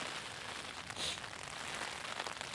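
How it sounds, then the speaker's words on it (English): Rain patters steadily and softly on a Taiji 2 tent at dawn, a faint, even hiss of drops with no voices. "as you can probably hear, the rain came in"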